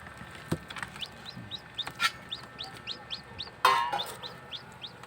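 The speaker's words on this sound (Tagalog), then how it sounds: "Silky chicken." Newly hatched silkie chick peeping in a backyard farm setting, a quick regular run of high, rising cheeps, close and fairly faint, with a few louder knocks and rustles between them.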